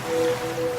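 A short burst of ocean waves used as a sound effect in a laundry detergent advertisement, a soft steady wash of surf with a faint tonal hum running through it.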